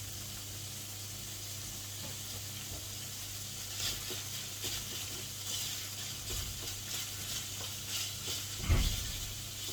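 Beef sizzles steadily in a pan over medium heat, with scraping stir strokes picking up in the second half and a brief clunk near the end, no talking.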